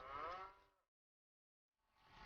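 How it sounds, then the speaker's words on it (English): Ankole cattle in Uganda, with one close, resonant moo at the start, then silence before a second low call begins near the end. "They probably would have been tending herds of a breed like these Ankoli cattle."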